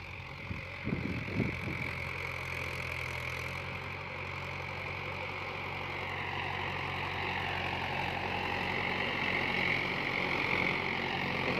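A Mahindra Bhoomiputra 415 tractor engine runs with a steady, low droning rumble and a mid-range hum, pulling a 9-tine cultivator. The sound stays close and continuous and swells slightly toward the end.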